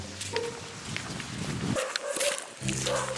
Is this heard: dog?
yes